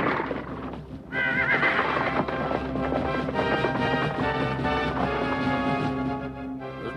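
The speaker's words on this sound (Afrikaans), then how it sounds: "is dit nie die gemaskerde man se perd nie?" A horse neighs loudly and close, followed by brisk clip-clop hooves that carry on steadily while the whinny fades, with no talk over it.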